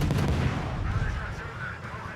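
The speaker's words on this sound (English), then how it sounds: "And that was a decent salvo." A warship main-gun salvo in the naval video game World of Warships, a loud deep booming blast with rolling rumble that decays over about two seconds, no talk present.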